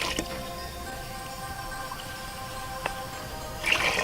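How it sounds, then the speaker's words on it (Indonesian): Water poured into a cooking pot over pieces of cassava set for boiling: a steady, soft liquid rush with a few small drips. It continues alone and fairly quietly, with a brief louder splash near the end. "Dan kemudian kita taruh airnya teman-teman. Oke, merebus buah singkong ya."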